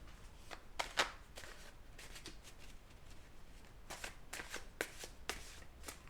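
Tarot cards being handled and laid down on a surface, giving soft, close taps and brushing slides in irregular clusters, faint against a quiet background hiss.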